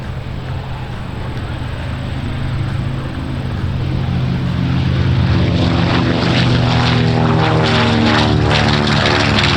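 A propeller aircraft departs at a New York air show, its engines producing a loud, steady, throbbing drone that swells slightly as it passes close by, with no voices over it.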